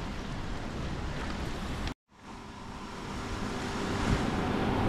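Water rushes hard out of the Amaravathi dam canal as a steady, loud broadband roar with wind buffeting the microphone, cut by a brief dropout before the torrent resumes and builds.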